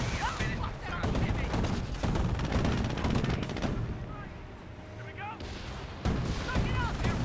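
Rifle fire and explosions in the strategy game Company of Heroes, with dense bursts of shots and booms layered over continuous battle noise under a commentator's voice.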